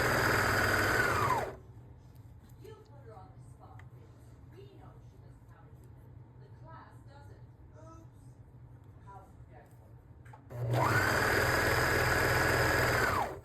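A serger runs in two loud, steady bursts while stitching a seam on lounge pants, one at the start and one near the end, with a quieter stretch of talking in between.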